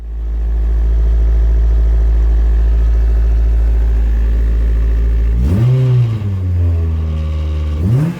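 A K20-swapped Honda Jazz engine holds a high, steady drone on cold start, then drops sharply, blips back up and falls again in quick revs, loud and close with no voices.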